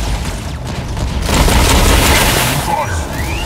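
The Killshot weapon fires in the Mech Arena robot battle game, a loud, dense barrage of booming blasts and mechanical crashes that runs continuously through the moment.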